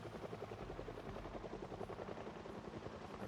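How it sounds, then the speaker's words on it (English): A helicopter in a zombie survival video game drones overhead with a steady rapid rotor thump and dense engine wash, constant and fairly loud throughout, no speech. "It's a terrible, terrible point to get this helicopter as well."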